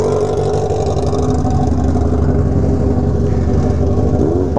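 A Honda Hornet motorcycle engine running hard uphill on a dirt hill, a loud close steady growl with held revs and a brief shift in pitch near the end.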